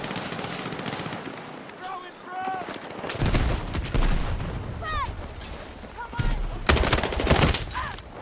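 Machine gun fire in a video game rattles in repeated bursts with booming impacts, while someone talks over the gunfire.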